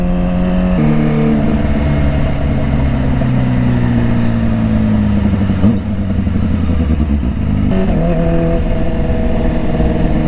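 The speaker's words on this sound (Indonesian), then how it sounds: "Ini aku sampai pakai gigi 5 guys biar nggak terlalu berisik suara ya." A Kawasaki ZX25R motorcycle cruising in fifth gear gives a steady, loud engine drone with smooth pitch shifts, briefly dipping and rising as the rider eases off and back on the throttle.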